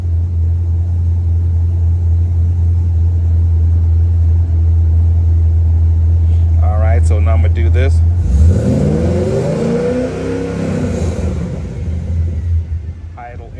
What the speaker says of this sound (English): Rev engine.